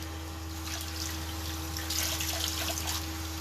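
Water trickles and splashes faintly at a sink while a tightening, brightening face mask is rinsed off, with soft irregular dribbles over a steady low hum.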